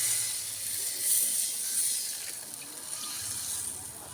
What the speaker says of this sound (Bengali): পরিমাণ মতো জল দিতে হবে